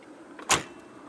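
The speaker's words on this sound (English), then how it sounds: "look, listen to the doors shut." A single solid thud from a 25-year-old Mercedes car door shutting, one short close impact over a low steady background, with no talking.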